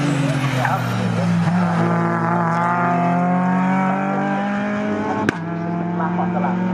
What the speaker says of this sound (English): Lap after lap, going round and round and round.